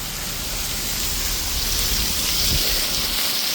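Rain falls during an outdoor run as a loud, continuous hiss and patter with no letup.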